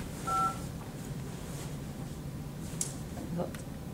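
A few short phone keypad touch-tones beep during a conference call to enter the unmute command, brief clear blips over quiet room noise and low murmuring.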